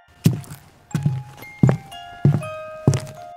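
Five heavy footsteps thud at an even, slow pace, close and distinct, each a dull low impact standing alone as a sound effect for a zombie horror story with no talk over it.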